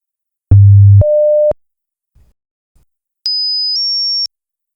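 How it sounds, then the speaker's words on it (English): Two steady pure sine tones 500 Hz apart play one after another, a low hum then a higher pitch, followed after a short gap by a pair of shrill high tones. "take a listen to these two frequencies and take note on how far apart they feel"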